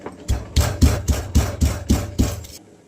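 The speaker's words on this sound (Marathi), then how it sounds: "थोडंसं चवीपुरतं मीठ टाकणार, कुटून घेते बारीक." Garlic, coriander and a pinch of salt pounded into a fine paste for an egg dish, about nine steady, evenly spaced thuds with a gritty rasp, close and fairly loud, no voices.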